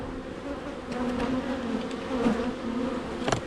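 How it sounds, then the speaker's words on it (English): Honey bees buzz close by during a hive inspection, a steady droning hum with individual bees flying past and briefly growing louder, with no voices. "a few bees there didn't quite get the idea with the smoke, so they're coming up to be a bit curious as to what's going on"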